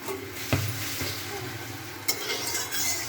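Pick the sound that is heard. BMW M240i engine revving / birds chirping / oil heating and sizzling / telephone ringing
oil heating and sizzling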